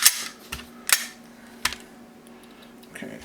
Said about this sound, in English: let's do a dry fire test of this gun